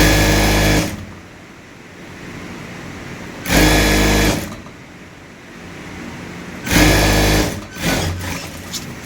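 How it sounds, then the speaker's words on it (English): A sewing machine stitches a tote bag seam in three loud whirring bursts of a second or so each, separated by quieter pauses, with a short stuttering run at the end. "Then I'm going to sew it straight."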